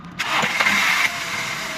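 A car engine cranks and catches after a roadside fix, then runs with a rising rev under light throttle, close and fairly loud, with a steady idle hum following.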